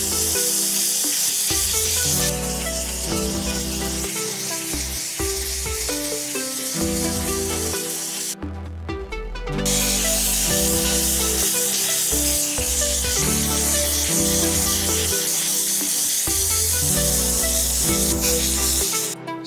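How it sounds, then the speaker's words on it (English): Spray coating goes onto airbrushed t-shirt artwork in repeated bursts of close, loud hissing spray, with brief pauses between passes and no talking. "give it a few coats like this"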